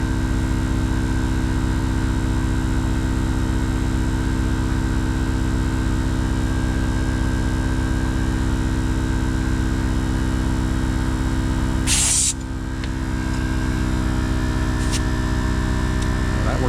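A Viair 300P portable air compressor runs while inflating a tire, a loud steady motor drone with strong hum, cut briefly by a sharp hiss burst near the end before the drone resumes.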